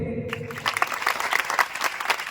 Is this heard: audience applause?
yes